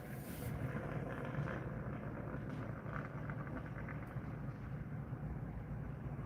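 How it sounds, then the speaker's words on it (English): A passing truck that sounds like it is running on a flat tire makes a steady, loud, low rumble that fills the whole stretch without letting up, with faint rhythmic pulses in the roar and no voices. "That truck sounds like it's got a flat tire."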